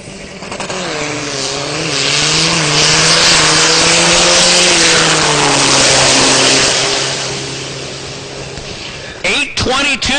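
Diesel drag car from Thailand launching down the left lane of the drag strip at the Texas Motorplex, a loud sustained engine roar with turbo whine rising and falling over about eight seconds before cutting off, with an announcer talking over it.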